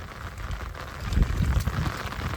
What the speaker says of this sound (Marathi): पाऊस पडते ना.